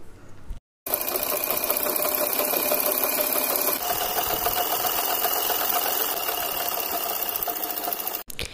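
Sewing machine stitching a frock-style long suit, a fast steady mechanical whir and rattle running almost continuously, with a brief pause near the start and a short stop near the end.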